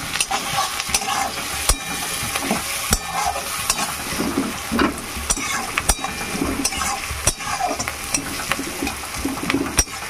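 Chillies and onions fry in hot oil in a Bengali home kitchen, a steady close sizzle broken by repeated stirring scrapes and light clicks of a spatula against the pan, with no talking.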